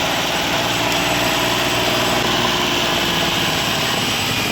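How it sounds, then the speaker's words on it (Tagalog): A car engine starts and settles into a steady, loud idle with a rough rumble, consistent with a connecting rod knocking, running alone and close up. "Paandarin po natin mga papsyo para marinig natin yung tunog ng kanyang makina."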